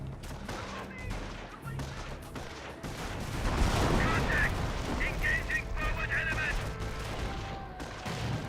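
Battle din in Company of Heroes as a grenade bursts on an infantry squad amid continuous rifle and machine-gun fire and distant booms, with a voice talking over the fighting.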